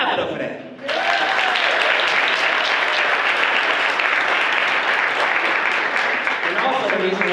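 A live audience breaks into loud, sustained applause that swells in suddenly and carries on, dense and steady, with a few cheering voices mixed in.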